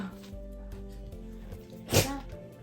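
One sharp, close sneeze bursts out over a quiet background hum, with faint soft sounds around it.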